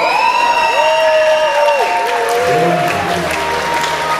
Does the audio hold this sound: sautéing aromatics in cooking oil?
no